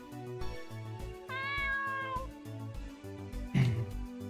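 A cat meows several times in the video game 7th Stand User, with tonal game chimes and a looping melody behind it, ending in a louder, harsher meow near the end.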